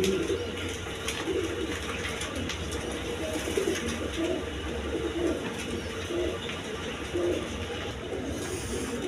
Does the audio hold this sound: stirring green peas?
no